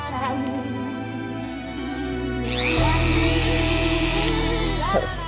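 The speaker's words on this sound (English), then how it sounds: "I'm gonna grab the Dremel, remove all the leftover midsole so we can keep this process going." Dremel rotary tool grinding away leftover sneaker midsole, a steady high whine that jumps louder and brighter midway and holds, close to the mic with no talk.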